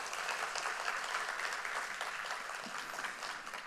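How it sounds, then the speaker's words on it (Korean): A church congregation at a Sunday service applauding the choir, a steady wash of many hands clapping at moderate distance, filling the space evenly for several seconds. "우리 찬양대 위에서 뜨거운 박수 한번 할까요?"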